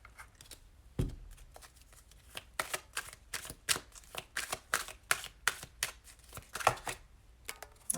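Tarot-style cards being shuffled and drawn for a reading, a dense run of quick papery riffles and flicks close to the mic after a single thump, with no talking.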